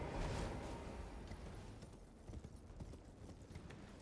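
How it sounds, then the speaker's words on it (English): Horse hooves clip-clop steadily while riding in Elden Ring Shadow of the Erdtree, a close rhythmic trot that is slightly louder at first and carries on alone without talk. "Now we're gonna get on our horse."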